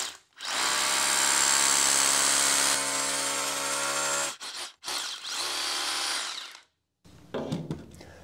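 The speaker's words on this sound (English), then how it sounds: "I have it marked so that it'll over drill the hole just slightly because you don't want this thing to bottom out" A power drill bores a hole into rock for a spring-force bolt anchor, a loud whining grind that runs several seconds, breaks off, restarts, then ends with short bursts.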